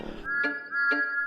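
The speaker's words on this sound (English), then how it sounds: "Just then they heard his whistle." Thomas the Tank Engine's steam whistle sounds as two steady, sustained tones of about half a second each, separated by a short gap, clear and prominent after a brief moment of background noise.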